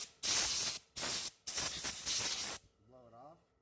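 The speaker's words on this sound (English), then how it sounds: "Grab your air hose." Compressed air hose blowing dust off a freshly finished, laminated turned wooden bowl, three loud hissing bursts with short pauses between them, followed by a brief faint voice.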